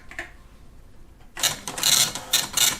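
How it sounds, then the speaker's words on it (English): After a quiet lead-in, an old dot-matrix printer bursts into loud, rapid buzzing bursts of print-head clatter, broken by short pauses between lines as it prints a program listing. "it's now printing the list of the program"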